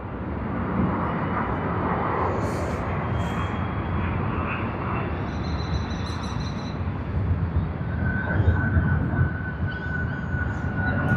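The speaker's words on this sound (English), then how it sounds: "there you are, Qantas Airbus A380" A Qantas Airbus A380 arrives at Sydney Airport, a steady broad roar of jet engines filling the air for the whole stretch, with a thin high whine rising near the end as the big airliner draws closer.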